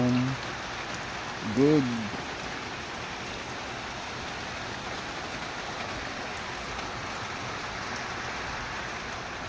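Steady rain falls continuously in a dense, even hiss across a garden area, with a brief spoken voice near the start.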